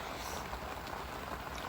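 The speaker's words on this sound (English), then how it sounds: "It's raining." Heavy rain at a carp-fishing lake, a dense, steady hiss and patter of drops falling on surfaces, constant and fairly soft with no other sounds standing out.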